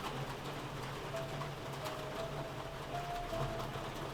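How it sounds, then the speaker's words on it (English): Heavy rain pouring down in a steady, dense hiss with a faint tonal hum underneath, loud and continuous throughout with no voices. "the rain is really loud."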